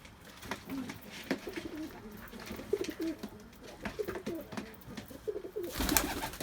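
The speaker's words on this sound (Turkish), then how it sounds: "Yeni uçum kuşlarımız." Flight pigeons at an outdoor bird market coo in repeated soft, rolling calls, several birds overlapping at close range, with a brief burst of louder rustling noise near the end.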